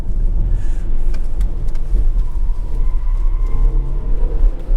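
A 2023 BMW iX M60 electric SUV, nearly three tons, accelerating hard, giving a steady low road and drivetrain rumble with tyre noise throughout, no engine revving, fairly loud and continuous.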